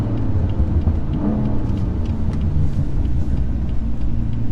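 A Porsche 911 GT3 exhaust gives a steady, deep, close rumble heard from a moving car, with an unbroken low burble throughout.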